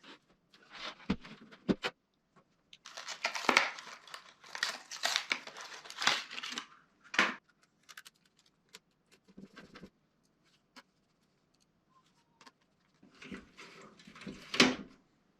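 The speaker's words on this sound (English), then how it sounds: "Let's install the SATA drive" A SATA drive being fitted into a PC case: bursts of plastic rustling, clicks and scraping handling noises in irregular clusters, separated by quiet pauses.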